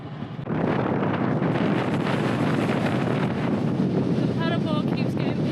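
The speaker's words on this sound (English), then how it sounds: "paddleboard keeps getting picked up by the wind" Strong wind blows outdoors on the coast at Ullapool, Scotland, roaring loudly into the microphone in a continuous rush where a paddleboard lies, with a brief lull at the start and faint flapping toward the end.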